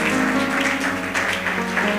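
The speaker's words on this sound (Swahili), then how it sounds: "Tuwapigie makofi." A congregation applauds during a pastor's ordination ceremony at a church, a dense steady clatter of many hands with a low sustained tone beneath it.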